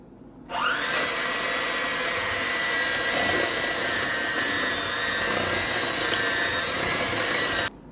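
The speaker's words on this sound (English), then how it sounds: "You're going to mix this until it's smooth." An electric mixer whips powdered sugar mixture until smooth for a strawberry shortcake dessert. It starts abruptly with a loud, steady whirring drone that holds for about seven seconds, then cuts off, close with no talk.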